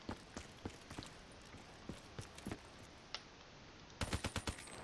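Gunfire in a Black Ops 3 zombies custom map, scattered single shots crack over a steady game background, then a quicker, louder burst of shots near the end.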